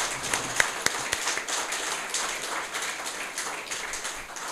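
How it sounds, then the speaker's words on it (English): An audience claps in applause at a bar association lecture on legal communication, a fairly faint, dense patter of many hands heard at a distance and sustained throughout without talk. "by way of a great applause, we can share the"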